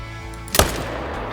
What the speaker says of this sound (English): Just keep shooting.